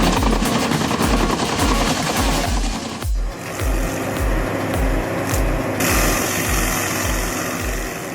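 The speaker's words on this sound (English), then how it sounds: "The Carlton SP 5014 TRX grinds a 10-inch stump like peeling a potato" A Carlton SP 5014 TRX tracked stump grinder works a 10-inch stump, loud engine drone with rapid rhythmic chattering pulses from the cutting wheel, a brief dip mid-way then steady grinding, no talk.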